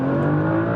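A car exhaust drones steadily while accelerating, a loud continuous engine tone with no distinct pops audible in this brief stretch.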